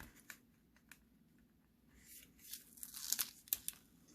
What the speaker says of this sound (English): And I'm going to peel this up